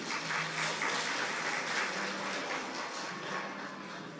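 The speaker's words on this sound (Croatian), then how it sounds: "Nagradite naše veseljake još jednim velikim pljeskom." Steady, dense audience applause at a children's folklore festival in Piškorevci, a crowd clapping continuously at even strength throughout.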